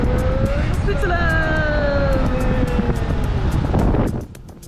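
Car driving on the road toward the St Bernard Tunnel in Switzerland, a steady engine and tyre roar with gliding tonal whines, fairly loud and constant, dropping off sharply at the end; a voice speaks over it.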